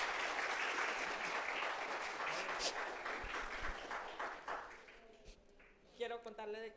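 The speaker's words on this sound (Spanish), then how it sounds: "Denle un fuerte aplauso a Jesucristo." A church congregation applauds with dense, steady clapping that fills most of the moment, fading toward the end as a voice begins speaking over the last seconds.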